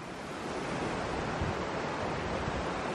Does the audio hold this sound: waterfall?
yes